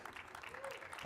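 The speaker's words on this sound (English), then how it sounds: "I don't know why you're clapping for him for that one." An audience at a SXSW 2022 talk claps briefly, a short burst of scattered, fairly faint applause.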